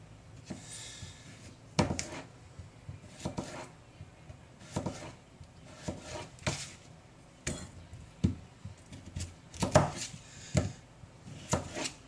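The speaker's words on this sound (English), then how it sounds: "I always like to slice the potatoes nice and small because then it makes it easier for them to boil" A knife chops through potatoes on a cutting board in irregular, sharp knocks, quiet with gaps between cuts, close by.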